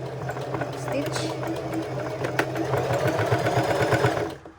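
A sewing machine stitches through the waistline of a pair of jeans, running steadily with a rapid, even needle rhythm at close range for several seconds while a person talks over it.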